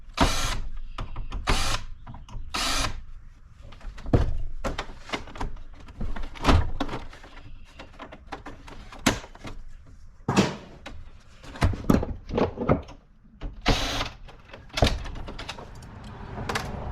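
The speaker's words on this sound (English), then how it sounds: "Get these screws out over here." Screws being worked loose from a scrap copy machine during teardown, giving irregular sharp clanks, clicks and rattles of metal trim pieces, fairly close, with no talking.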